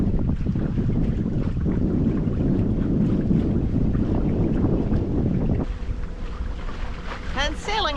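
A sailboat under way on the open ocean in rough conditions: loud, steady rushing wind and water noise throughout, easing slightly near the end, where some faint squeaky tonal sounds appear.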